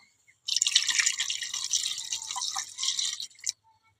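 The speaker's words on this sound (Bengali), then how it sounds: "আমি পানি দিয়ে দেবো।" Water pours into a pot of spicy egg curry in a small kitchen, a splashing, gurgling stream of about three seconds that starts abruptly after a short quiet and cuts off cleanly.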